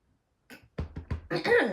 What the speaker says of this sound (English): I'm just going to clear my throat.